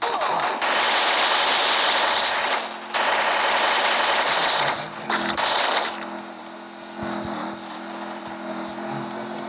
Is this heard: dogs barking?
no